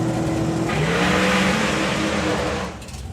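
A turbocharged doorslammer drag race car launches off the start line with too much wheel speed, its engine roaring loud and rising in pitch before fading as it pulls away.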